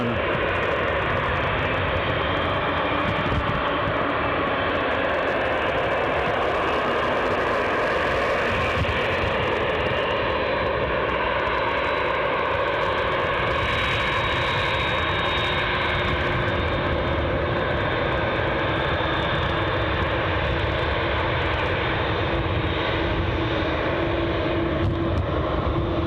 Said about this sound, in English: Dreamliner.